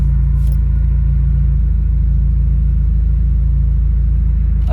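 A Subaru WRX with the FA20DIT engine runs with a misfire in cylinders 1 and 3 while driving with the windows down. A steady, loud low engine rumble drones throughout with no talking.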